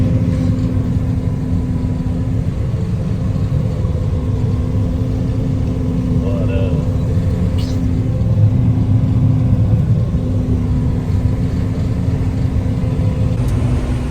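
A combine harvester engine runs steadily after being restarted, a loud, continuous low rumble with a constant droning hum that holds nearly unchanged throughout.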